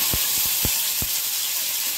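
Onion, tomato, green chilli, peas and carrots dropped into hot oil for Maggi noodles give a steady broadband sizzle, with a few soft thuds as pieces land in the pan early on.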